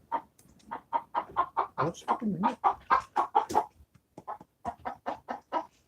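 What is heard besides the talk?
chicken clucking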